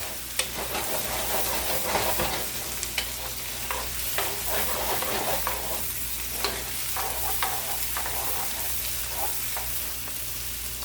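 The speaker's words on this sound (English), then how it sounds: "I grab our wok spoon. I'm gonna go ahead and get these veggies nice and sauteed." A wok spoon stirs and scrapes vegetables sautéing in a hot wok for fried rice. Repeated metallic scrapes and clinks ride over a continuous close sizzle, with no voices.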